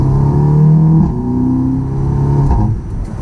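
A fire-damaged Audi TTS Mk2 (8J) with performance upgrades revs hard, its engine note loud and close, swelling and settling in a continuous drone with no talk.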